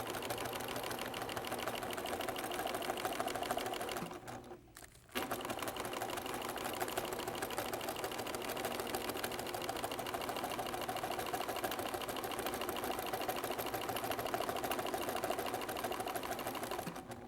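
A sewing machine stitches around a marked pattern on a quilt, running in a steady, fast mechanical chatter that continues almost without a break, with one brief pause partway through.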